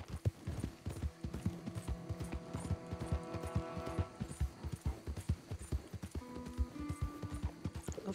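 A horse's hooves clip-clop at a steady riding pace in the Red Dead Online video game, with a continuous rhythmic beat over a soft musical bed and no talking.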